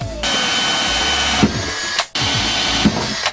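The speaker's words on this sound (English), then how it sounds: "Alright, drill these holes." A power drill boring holes through a plastic switch plate for a Honda Pioneer 1000 side-by-side, a loud steady whir running for stretches and cutting out briefly twice, close up.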